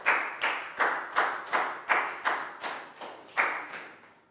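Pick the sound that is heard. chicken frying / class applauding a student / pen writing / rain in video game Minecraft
class applauding a student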